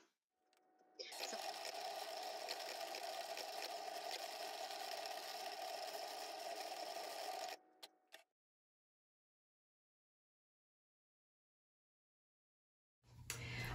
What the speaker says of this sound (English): it's sending all the information to the cutting machine